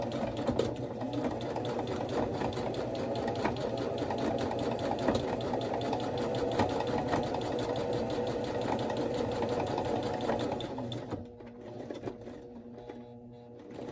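A sewing machine stitching a slit/slot journal binding runs steadily with a fast, even mechanical whir and needle chatter, close and continuous, then slows and stops near the end.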